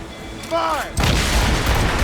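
Ship cannons in Assassin's Creed Rogue, a sudden loud booming roar that follows a shouted voice and sustains as a heavy rumble of naval gunfire.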